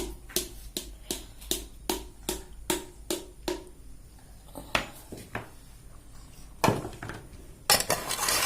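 A utensil knocks against a pan while food is stirred during the making of a tamarind drink, a regular series of sharp metallic clinks, close and fairly loud, thinning to a few irregular knocks toward the end.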